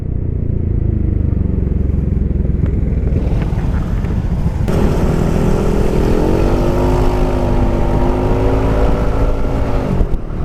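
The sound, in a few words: Yamaha NMax 166cc bore-up scooter revving with Satria exhaust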